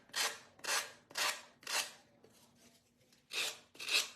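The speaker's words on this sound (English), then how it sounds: "sanding my edges just to get that clean edge here" Sandpaper rubs along the edges of a corrugated cottage décor piece in steady, even back-and-forth strokes, about seven soft rasping passes with a brief pause, close and quiet.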